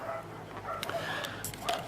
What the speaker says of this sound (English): They never shut up barking.